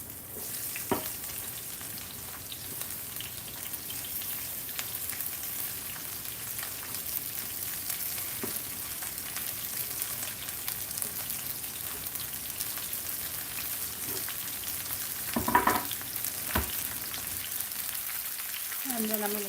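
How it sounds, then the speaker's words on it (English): Steady, low sizzling of vegetables in a hot cast iron pan throughout, with a few brief clinks and scrapes rising above the hiss near the end. "They have to be able to sizzle a little. A little sizzle."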